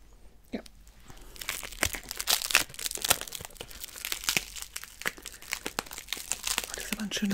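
Crinkly plastic packaging of a drugstore product being handled and torn open, with close, sharp bursts of rustling and crackling while someone speaks softly.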